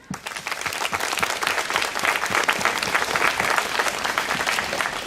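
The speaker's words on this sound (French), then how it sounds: "Donc je vous dirais que vous applaudissez Monsieur Bernard Debout." An audience applauds at an outdoor speech ceremony at the Pagode de Vincennes in Paris, with steady, dense clapping from a crowd that holds throughout without voices.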